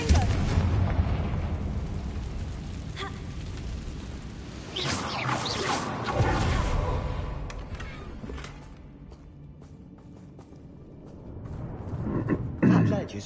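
Fiery Confringo spell blast in Hogwarts Legacy, a loud booming burst followed by rumbling debris, with another heavy impact near the end.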